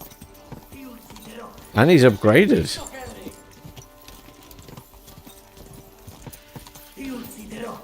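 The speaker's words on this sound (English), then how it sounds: "my horse is not that fast." A horse gallops in Kingdom Come: Deliverance II, its hooves pounding in a fast, rhythmic clip-clop under a man's brief speech and other game sounds.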